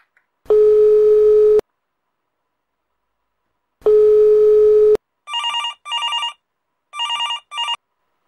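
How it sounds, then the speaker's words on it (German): Telephone ringing tone heard while a call is placed: two long ring tones a few seconds apart, followed by short chirping electronic tone bursts, clear and alone with no voices. "Ich rufe mal bei Ruth an."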